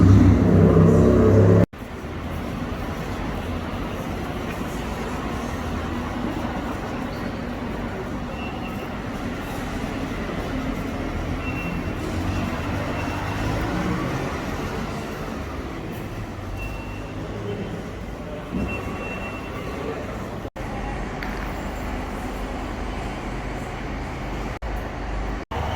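A passenger train rolls from Swansea toward Pembroke Dock, heard from inside the carriage as a steady rumbling drone of wheels and engine with occasional clicks and rattles, continuous for about twenty-five seconds.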